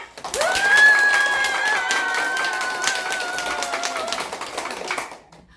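A group of teachers claps together in a room, a dense, loud burst of applause that holds steady for several seconds and then stops abruptly, with a sustained vocal tone ringing over the start.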